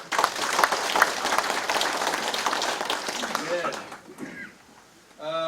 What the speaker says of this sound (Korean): 올해 같이 힘내자고 좀 박수 좀 한번 보내주십시오